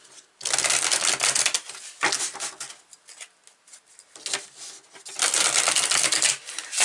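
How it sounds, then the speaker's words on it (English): A tarot deck is shuffled and cards are pulled, giving loud, close rustling and riffling bursts separated by short pauses. "I'm going to pull 3 more cards here"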